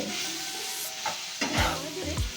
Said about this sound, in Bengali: নাড়াচাড়া করে শাকগুলোকে খুব ভালোভাবে ভাজা ভাজা করে নেব